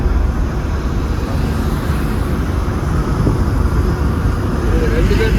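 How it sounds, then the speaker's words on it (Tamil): Large wing-body lorry driving past on a road, heard as a heavy continuous low rumble of engine and tyres with wind buffeting, steady and fairly loud throughout from inside a moving car. "பின்னாடி இன்னொரு விங்ஸ் வருது."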